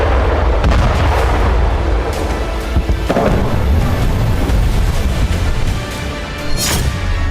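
Heavy, continuous blast-like roar and rumble from a Russian strike on an ammunition depot in Khmelnytskyi, with dense low-frequency booming throughout and sharper bursts near the middle and end.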